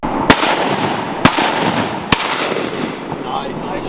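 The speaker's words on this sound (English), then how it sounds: "Nice shot, Pete." Shotgun blasts during a wood duck hunt in Maryland, three sharp loud reports spaced about a second apart outdoors, with voices faintly audible.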